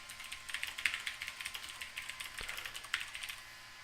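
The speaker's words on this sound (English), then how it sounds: "I don't know what I was typing there." Steady typing on a computer keyboard, a quick run of close, crisp key clicks with an uneven rhythm and the odd heavier keystroke, quiet and alone without talk.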